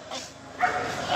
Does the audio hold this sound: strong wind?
no